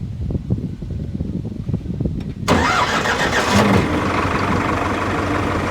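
A Farmtrac 6055 CRDi tractor's diesel engine cranks and catches, settling into a steady close idle, after a few seconds of quieter low rumbling and faint ticking.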